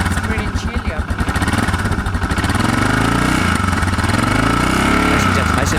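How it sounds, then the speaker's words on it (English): Adventure motorcycle (KTM Super Adventure or DR650) idling to warm up in cold air at high altitude above 13,000 feet, a steady loud close engine rumble with a slight rise in pitch near the end, with a voice talking over it at the start. "I got to warm this bike up. It's pretty chilly up here."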